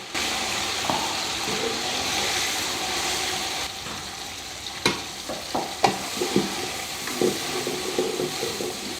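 Onions and peppers fry in a pan for thieboudiène, a steady close sizzle that quiets midway, followed by several sharp knocks and scraping stir strokes.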